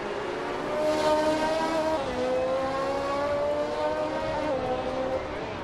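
A 1971 BRM P160 Formula One car racing in a video game, its high engine whine holding steady and shifting pitch through gear changes, loud and continuous with no talking.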